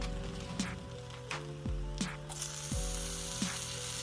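Butter sizzling in a hot pan around a flipped onion slice for an onion burger, a quiet steady fry with a low hum beneath and a few soft clicks and taps, no voices.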